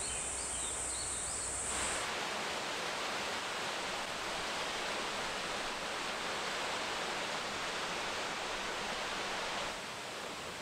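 A cascading mountain stream and waterfalls beneath old-growth forest canopy near a Buddhist temple in southern Japan, a steady broadband rushing roar that fills the scene evenly throughout, with no voices.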